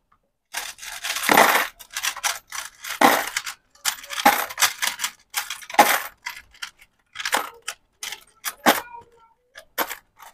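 Coins being removed from a coin changer converted from a timer, a run of metallic clinks and jangles in irregular bursts, close and loud with brief pauses between.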